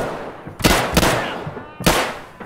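Gunfire in the video game Escape From Tarkov: three sharp, loud shots, two in quick succession and a third after a short pause, each with a brief ringing tail.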